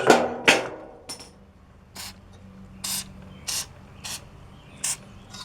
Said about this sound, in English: we're gonna put a little bit of lube right under these tabs here. Just a little bit of our fluid film will do.